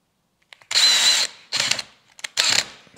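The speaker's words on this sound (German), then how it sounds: "Und da wollen wir jetzt ganz einfach eine Schraube einschrauben." A power drill drives a screw into a prepared countersink in wood while building a mechanical marble run, in three whirring bursts with short pauses between them, close and loud.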